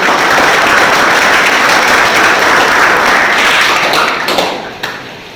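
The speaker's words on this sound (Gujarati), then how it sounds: "એકવાર જોરદાર તાળીઓથી એમનું આપણે અભિવાદન કરીશું" A college audience at an electrical department expert lecture on AC machines applauds to welcome a guest. The loud, dense clapping holds steady for several seconds, then thins out and fades at the end.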